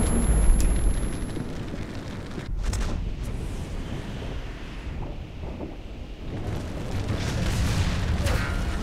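Tank ammo rack exploding in War Thunder, an M1 Abrams battle: a deep rumbling boom with sharp bursts, then roaring wind-like noise and scattered cracks over the following seconds.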